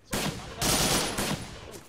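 Automatic gunfire in a war video game set in French Indochina, three loud close bursts of rapid shots separated by short gaps, with a fainter fourth burst at the end.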